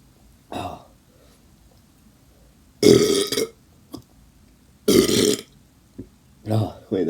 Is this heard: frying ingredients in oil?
no